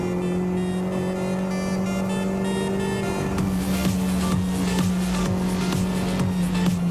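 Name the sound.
Renault Clio R3T rally car accelerating through gears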